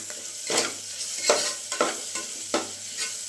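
Cumin seeds sizzling in hot oil in a pan for jeera rice, a steady bright crackle with several stirring scrapes spaced through it, close and moderately loud, no talking.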